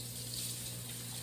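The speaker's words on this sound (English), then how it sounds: "All right, I gotta wash my hands." Tap water runs steadily into a sink for hand washing, a soft, even gush heard close by and fairly quiet for the whole short moment.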